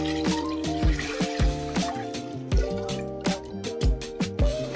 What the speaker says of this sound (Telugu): ఇప్పుడు వాటర్ యాడ్ చేసుకోండి.